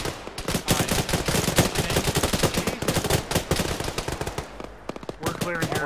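Dense automatic gunfire and rapid shots crackle nonstop through a video game firefight, loud and close, with voices calling out over the shooting.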